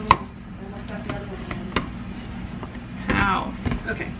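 A knife mincing food on a cutting board at home, giving a scattered series of sharp, close taps with a quicker cluster near the end over a low background hum.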